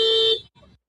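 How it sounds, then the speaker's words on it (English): A car horn gives one loud, steady honk lasting about a third of a second, then a shorter, fainter second toot, close by. "She's honking her horn again."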